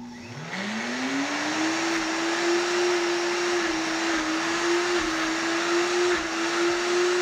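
A Homgeek 1450W countertop blender spins up quickly and then holds a loud, steady motor whine with a slight wavering pitch, running alone for several seconds.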